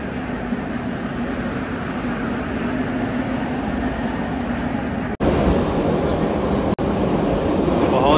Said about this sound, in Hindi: ये ट्रेन आ चुकी है